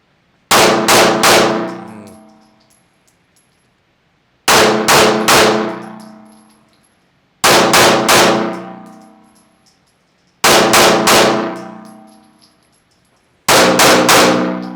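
Pistol shots at a live fire practice crack out in five quick strings of about three rounds each, loud and close, every few seconds, each burst followed by a ringing decay and near silence.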